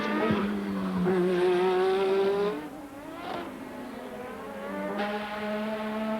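Formula One cars from 1986 racing at the Australian Grand Prix, a steady loud engine whine with pitch sweeps as several cars pass, one after another, with no voices over the roar.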